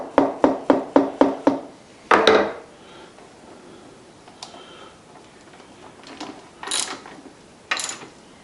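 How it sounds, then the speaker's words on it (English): A wrench ratchets in a quick run of sharp clicks while loosening a bolt on a shaper under restoration, followed by a louder metallic clunk and a few scattered knocks in a quiet shop. "So let's loosen this bolt."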